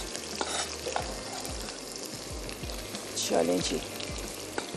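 Onion sautéing in oil for mutton rara, a soft steady sizzle broken by repeated stirring scrapes and clacks of a spoon, with a brief spoken line over the cooking.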